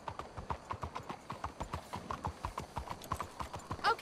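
Horse hooves clip-clop at a steady, quick rhythm, close and clear, while riding in Red Dead Redemption 2, with no voices over them.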